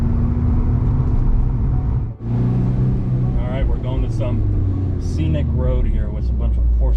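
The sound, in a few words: Porsche cars driving on a scenic road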